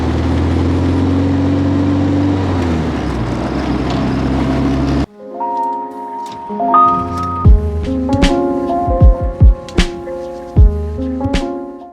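A loud car engine with a bad exhaust leak rumbles steadily for several seconds, then gives way to a sequence of ringing, bell-like tones over a low drone.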